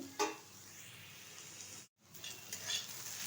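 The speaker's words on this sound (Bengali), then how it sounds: "ভালোভাবে ভেজে নিচ্ছি" Ash gourd peel frying in a pan, a faint, steady sizzle with a few light stirring clicks, a brief silent gap in the middle.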